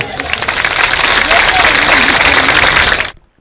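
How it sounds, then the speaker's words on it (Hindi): Crowd at an outdoor election rally in 2024 breaks into loud, dense applause mixed with shouting that holds steady for about three seconds before cutting off abruptly. "3 चुनाव लड़ चुके हैं लोकसभा और विधानसभा से, तो एक बार जोरदार तालियां।"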